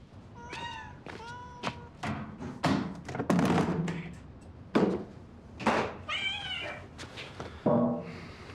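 Kitten letting out a series of loud, close meows and cries, about ten of them in an irregular rhythm, with a few soft thumps in between.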